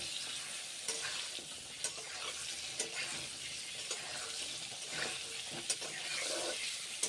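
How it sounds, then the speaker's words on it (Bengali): Pointed gourd (potol) pieces frying in a pan, producing a faint, continuous sizzle with a few light clicks of a spatula turning them. "এইভাবে পটলগুলো আমি এখন তাই ভেজে নিচ্ছি।"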